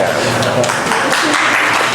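Audience applause at an author conversation event, a steady wash of clapping from a crowd that fills the whole two seconds at a fairly loud, even level.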